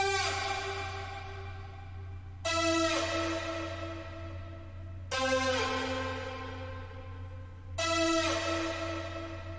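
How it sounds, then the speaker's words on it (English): A sustained synth note in a pop chorus, retriggered every few seconds and pitched down a step each time, four bright swelling hits decaying over a low steady bed. "This ended up being a synth where I pitched it down over time"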